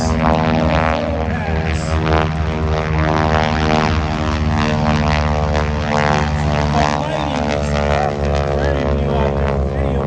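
A steady, droning propeller airplane engine hums continuously and fairly loud, with a constant low throb and no pauses.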